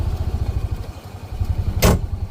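A Honda Pioneer 700 utility vehicle drives along, its engine giving a low, pulsing drone with rhythmic chugging, interrupted near the end by one short, loud rushing burst; no one speaks.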